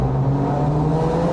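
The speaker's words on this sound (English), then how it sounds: "nothing beats the sound of the angry SR20 on full noise" A Nissan S14 Silvia with a 400whp SR20 engine revs hard in a steady, loud, sustained drone with a constant low hum, close by and with no voices.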